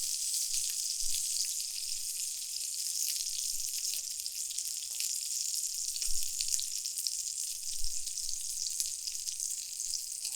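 A steak sears in an uncoated stainless steel pan, giving a steady, bright sizzle with faint crackles and pops. It holds evenly for about ten seconds at a moderate distance, with no voices.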